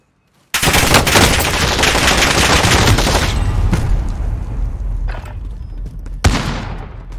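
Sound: gunfire in video game Call of Duty Warzone

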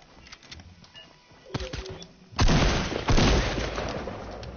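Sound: pistol gunfire in a video game

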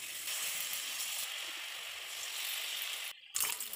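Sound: steamed egg pieces in batter frying on medium flame

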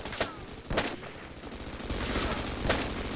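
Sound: gunfire in video game Half-Life: Sven Coop

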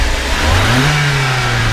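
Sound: 1991 BMW 318is E30 engine revving

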